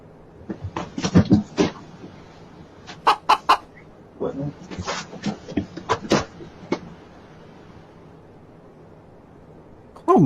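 Chickens cluck in quick, excited bursts as they chase someone, sharp calls coming close and loud in clusters with short pauses between, ending in a sudden louder noise.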